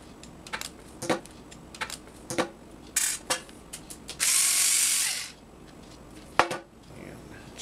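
A driver with a Torx bit unscrewing screws from a TiVo Premiere hard drive sled, giving a series of sharp ratcheting clicks at irregular intervals, close and fairly quiet, with one longer whirring burst.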